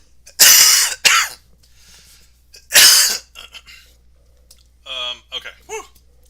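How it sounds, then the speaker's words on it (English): Two harsh, close coughs, a quick double burst and then a single loud one, followed by some breathy vocal sounds. "I tried to catch the cough"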